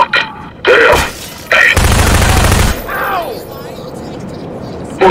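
Bursts of gunfire from the video game Entropy Zero, loud and close, with a sustained roaring volley in the middle and sharper shots around it, mixed with voices talking.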